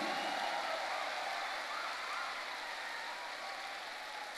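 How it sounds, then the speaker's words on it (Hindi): Dense, steady applause from a large audience at a motivational speech event at Mahakumbh, a continuous wash of clapping that holds at an even loudness for several seconds. "जोरदार तालियां होनी चाहिए।"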